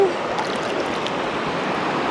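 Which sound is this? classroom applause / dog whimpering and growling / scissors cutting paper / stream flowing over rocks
stream flowing over rocks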